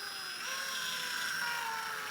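A steady high-pitched whine of a drill driver screwing in an eye hook, running continuously at close range, with no voices.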